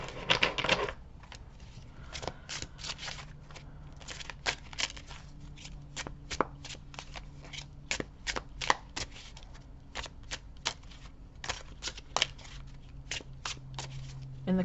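A deck of tarot cards is shuffled by hand in a long run of quick riffling flutters and soft taps, close and fairly quiet, with a steady low hum underneath.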